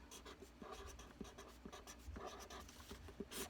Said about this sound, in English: Inside, I'm going to write the word larva